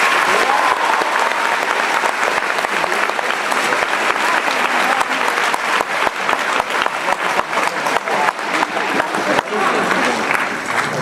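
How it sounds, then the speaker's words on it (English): A school audience at Billy Nelson's talk to TUHS students breaks into a loud, sustained round of applause, dense overlapping claps filling the room and continuing steadily throughout. "That deserves a round of applause."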